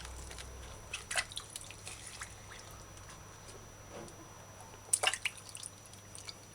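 Vegetables such as scallions being rinsed under water, heard as faint running trickle with scattered drips and splashes, a steady low wash punctuated by a few sharper droplet sounds.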